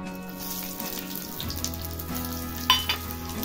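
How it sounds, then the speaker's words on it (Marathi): Green chillies roast in a hot pan for a spicy green chutney, giving a steady close sizzle and crackle with a low hum underneath and a couple of sharper pops near the end. "मिरची भाजून घ्यायची आहे."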